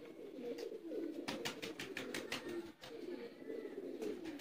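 Close, low cooing of kamagar pigeons, among them a champion male, repeats in throaty pulses, broken by a burst of sharp flutters or taps of handling near the middle.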